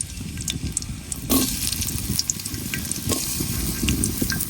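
Onions dropped into hot oil in a wok sizzle and crackle steadily, with a sharper burst of frying noise as they hit, close and fairly loud with no talk.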